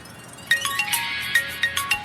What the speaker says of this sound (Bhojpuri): ए जी देखी न केकर फोन बा।